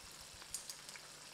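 Fish sizzles steadily in a frying pan over a quiet, even hiss, with a few brief crackles and pops breaking through; close and fairly soft.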